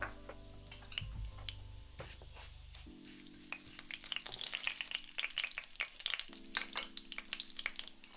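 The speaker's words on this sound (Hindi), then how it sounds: "जो तेल गर्म हो गया हूँ आप अद्धा चमचा जीरा पा देना, तो अद्धा चमचा मेथे" Cumin and fenugreek seeds spluttering in hot oil for kadhi pakora, a close, busy crackle and sizzle with scattered sharp pops, quiet overall and with no talking.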